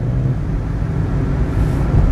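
A car rolls along during a driving lesson with the accelerator pressed, a loud, steady low road and engine rumble with wind noise heard from inside the cabin and no voices.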